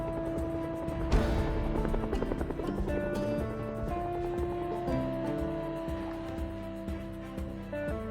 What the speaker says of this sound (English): And on top of that, the helicopter showed up.